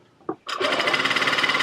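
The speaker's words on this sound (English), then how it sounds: "I just sew it much closer together." A sewing machine stitches satin scrunchies with a tight, close stitch, running at a steady fast rhythmic whir after a short bump, loud and close with no talking.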